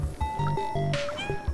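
Short, repeated cat meows in the video game Stray, each call brief and clear over a steady background tone.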